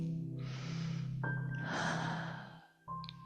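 Deep, slow breathing close to the microphone, a long drawn inhale followed by a long exhale over a steady low hum, alone without talk.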